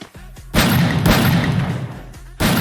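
Long shotgun blasts in the Free Fire video game, with two heavy booming shots, each followed by a sustained noisy rumble, preceded by a few quick low thumps.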